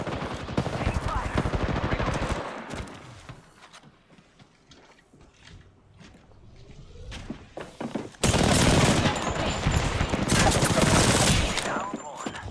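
Video game gunfire in a chaotic firefight: dense rapid automatic bursts at the start, a quieter lull with scattered shots, then a loud sustained fusillade near the end, with shouting voices mixed in.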